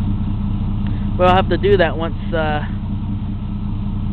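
A Jeep engine idles steadily with a low, even rumble after gasket maker has been applied to an oil leak, while someone speaks briefly over it.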